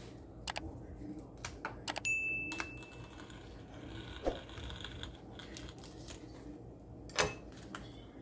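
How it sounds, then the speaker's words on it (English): Scissors snip through a FoodSaver vacuum sealer bag, a few crisp, separate cuts scattered among faint rustling and small clicks at close range in a quiet room. "I'm gonna cut it on that line."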